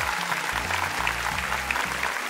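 An audience at a Got Talent Uruguay show applauds the dancers with dense, continuous clapping that stays loud and even throughout, over a low tonal hum.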